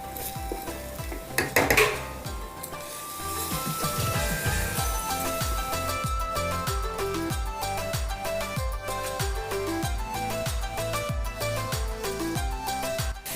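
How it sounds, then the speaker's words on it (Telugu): Fish pieces going into a simmering tamarind gravy in a pan for Telugu chepala pulusu, with a clatter and splash of metal utensils followed by a steady bubbling sizzle and repeated scraping stirs, no talking. "ఇప్పుడు మనము ఈ గ్రేవీలో చేప ముక్కల్ని పెట్టుకుందాం"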